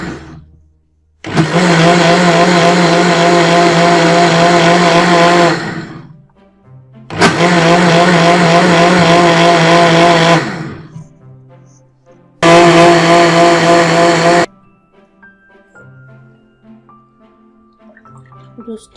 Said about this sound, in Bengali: এখন আমি ব্লেন্ডারে ব্লেন্ড করে নিচ্ছি।